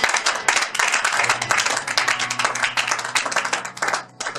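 A church congregation claps and acclaims in a steady, dense stream of close hand claps with a crowd murmur underneath, continuing unbroken to a brief dip near the end.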